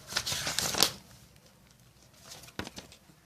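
Unboxing a TORO roti maker: close, crisp rustling and crinkling of packaging in a busy first second, a quieter lull, then a few more sharp rustles near the end, with no talking.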